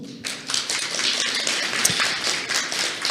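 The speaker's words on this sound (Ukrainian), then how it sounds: "Давайте підтримуємо оплесками один одного." A live conference audience at a Ukrainian startup and investor talk applauds together, a dense, steady burst of many hands clapping that starts abruptly and carries on loud and even throughout, with no talking over it.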